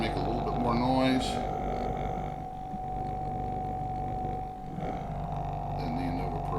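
A VacMaster SV-5 commercial-grade sous vide circulator runs with a steady, continuous mechanical hum and a faint whine that holds level for the whole stretch, set against low background room noise.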